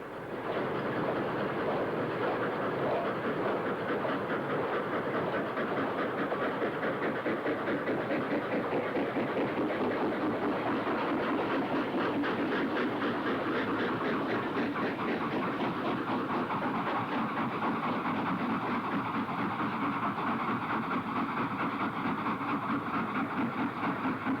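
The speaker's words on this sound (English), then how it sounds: "Swindon's 5939, Tangley Hall, is at the head of a long freight, including wooden-bodied mineral wagons, assisted by 3 panniers." GWR steam locomotive 5939 Tangley Hall heads a long freight with wooden-bodied mineral wagons, assisted by three pannier tank engines, at Bromsgrove. A sustained, rumbling roar with fast rhythmic chuffing and rolling wagon clatter continues steadily, with no voices.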